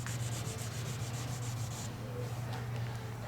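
Sandpaper rubs paint runs off a freshly painted red car body in a faint, steady, continuous scrubbing with a slight back-and-forth pulse and no talk.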